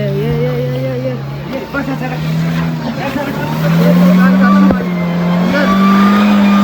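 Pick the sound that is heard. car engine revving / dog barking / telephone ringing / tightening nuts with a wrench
car engine revving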